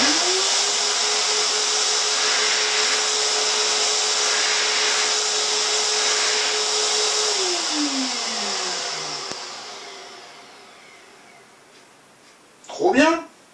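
A VEVOR electric hand dryer in a workshop blows hot air with a loud steady whooshing roar and motor whine for about seven seconds, then winds down and fades, followed by a brief burst of voice.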